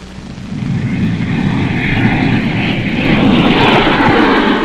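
A rocket's third stage engine firing in thin air at high speed, a loud continuous roar that swells and stays steady, with no voices.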